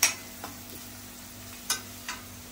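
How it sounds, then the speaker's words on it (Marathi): Browned onions frying quietly in a pan for a squid ring masala, with a few sharp spatula scrapes and clicks standing out over a faint, steady sizzle. "आता आपला कांदा चांगला परतलाय बघा"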